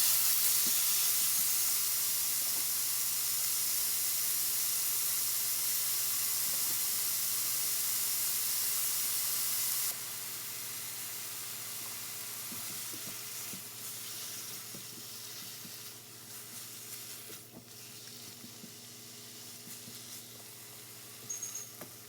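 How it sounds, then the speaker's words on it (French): Minced meat browning in a pan with clove, black pepper, salt and cooking stock, giving a steady close hiss and sizzle that drops slightly partway through, with a few faint clicks near the end. "Et là, on fait revenir la viande hachée."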